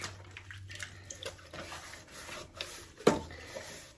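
A small backpacking cooking pot is scrubbed with a little Dawn dish soap and water on the Appalachian Trail, producing quiet, intermittent rubbing and splashing with one sharper knock near the end.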